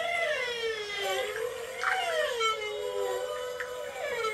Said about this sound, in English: Are those whales?